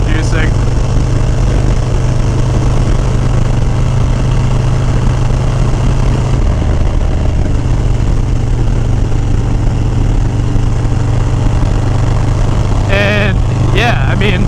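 A dyno-tuned motorcycle engine runs loud and close with a constant heavy drone that shifts slightly partway through, and a voice speaks briefly near the end.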